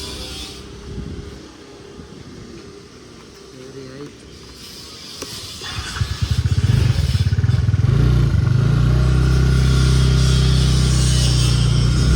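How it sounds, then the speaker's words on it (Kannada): A vehicle engine is started, apparently off a tractor after a dead battery, and then settles into a loud, steady running rumble that dominates the second half after quieter clattering and background sounds. "ಗಾಡಿ ಸ್ಟಾರ್ಟ್ ಆಯ್ತಲ್ಲ"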